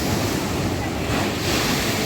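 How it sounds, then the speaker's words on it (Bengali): Sea waves breaking on the beach at Digha at night, a loud, dense rushing roar heavily mixed with wind buffeting the microphone, continuous throughout with no distinct individual breakers. "এত সুন্দর ঢেউগুলো আসছে"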